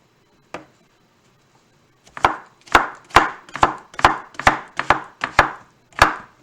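A knife cuts steak on a cutting board for fajita rice: one lone knock, then a quick series of about ten sharp, loud chops in an uneven rhythm, close and without talk.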